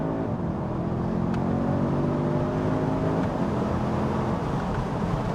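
A 2020 Audi S3 saloon (8Y) accelerates hard, its engine a continuous, full drone whose pitch climbs steadily through the gears, heard from inside the car without talk.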